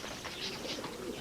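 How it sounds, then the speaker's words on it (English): Tumbler pigeons coo softly in a short, low burst of repeated murmuring calls, faint and close with a light background hiss. "These tumbler pigeons have been inbred to such an extent they can no longer fly."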